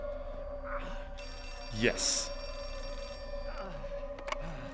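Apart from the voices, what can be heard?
telephone ringing in Outlast 2 video game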